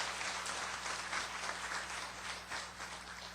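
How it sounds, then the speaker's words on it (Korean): A church congregation gives sustained applause of thanks for the worship team and choir at an evening revival service, a steady, even wash of clapping with no voices over it. "우리 오늘 찬양팀과 찬양대를 위해서 감사의 박수 보내드리겠습니다."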